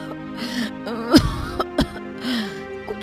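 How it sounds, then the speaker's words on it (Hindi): A woman coughing in a village home courtyard, a few harsh throaty coughs with throat clearing, close and loud, a strained moaning tone between them. "ये कैसी खांसी है?"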